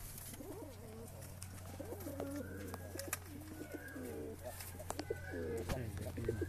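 White fantail pigeons coo in repeated soft, throaty phrases at close range, with a steady low hum running underneath and a few faint clicks and chirps scattered throughout.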